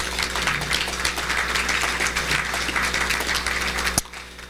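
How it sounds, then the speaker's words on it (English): An audience at a port event applauds steadily for about four seconds, a dense wash of clapping that stops abruptly. "One more time, let's give him applause."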